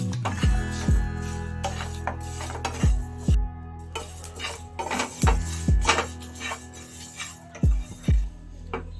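Spices for a sweet-sour jujube pickle stirred in a pan: irregular spoon knocks and scrapes against the metal, fairly close, with no talk.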